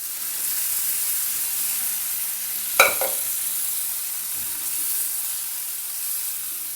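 Cooked dal goes into a hot tempering, giving a steady close frying sizzle with one brief splashy clatter as it is added and stirred, and no voices.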